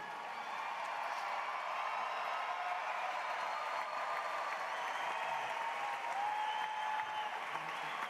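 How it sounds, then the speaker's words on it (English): Sustained applause for graduates at a May 2019 evening commencement ceremony, a dense, steady wash of crowd clapping that holds at an even level for about eight seconds. "Would you please join me in another round of applause for our graduates?"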